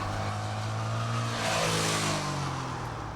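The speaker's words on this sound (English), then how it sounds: "This new addition to the Sachs range takes its power from an 805cc Suzuki motor. It's quite torquey and it pulls well from low revs." The 805cc Suzuki engine of a Sachs Roadster 800 motorcycle revs and pulls continuously, a loud, dense engine drone whose pitch rises and falls slightly, heard alone without talk.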